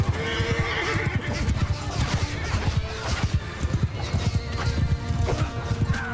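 Cavalry horses gallop in Mount & Blade II: Bannerlord, a dense run of hoofbeats clattering continuously and close, with horse neighs and whinnies breaking through the busy battle din.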